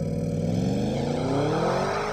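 A 2023 Audi S8 launching hard from a standstill, its engine roaring loud and close as the pitch climbs steadily through the rev range.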